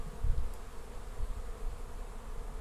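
Young honeybees on orientation flight in front of a hive at an apiary, a soft continuous buzzing hum of many wings with low rumbling bursts, faint and steady throughout.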